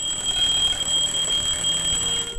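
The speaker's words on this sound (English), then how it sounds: "as when an alarm clock wakes him from sleep" An alarm clock rings with a steady electronic tone, continuous at a constant pitch, loud and close, with no pauses or voices.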